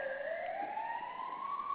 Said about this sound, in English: And sorry about the siren in the background.